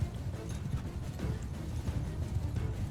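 Hooves of cavalry horses pound in a battle in the Mount & Blade 2: Bannerlord video game, a dense continuous rumble of galloping clatter held at a steady level throughout.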